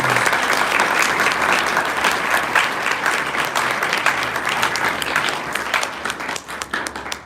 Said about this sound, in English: let's give these guys a round of applause for this